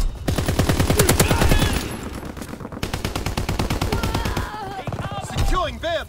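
Rapid automatic gunfire from a shooter video game's Domination match on the Shipment map, dense bursts of shots layered with game voice callouts and music, loud and near throughout.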